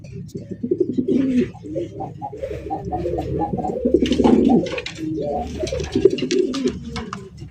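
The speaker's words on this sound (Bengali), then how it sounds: "কোকা কবুতরের কালেকশন দেখতে পাচ্ছেন লাল টুকটুকা।" Red Koka pigeons in a bird market cooing close up, overlapping soft throaty coos and brief flutters throughout.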